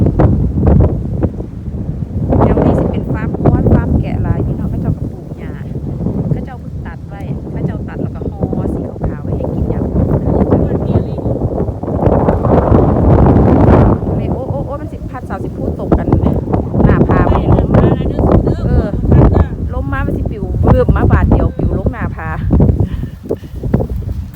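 Strong wind buffets the microphone outdoors on a Norwegian hillside during autumn mushroom picking, a loud continuous rumbling roar with gusts that swell and ease throughout, under speech.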